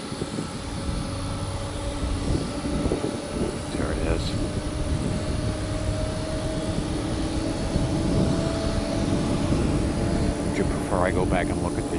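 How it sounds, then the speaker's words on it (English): Jet airliner, an MD-11, powering up for takeoff at Tampa airport, a steady broadband engine roar that holds throughout, with people talking nearby over the rumble. "Got an aircraft on final, 7 miles out."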